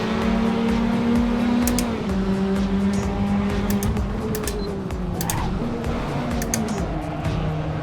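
A race car engine in a sim racing game drones steadily, its pitch stepping up and down through gear changes, with occasional sharp clicks layered on top.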